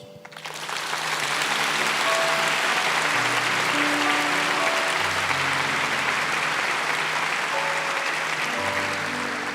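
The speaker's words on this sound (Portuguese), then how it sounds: "Pode aplaudir." An audience in a church setting breaks into sustained applause, dense steady clapping from a large crowd lasting several seconds.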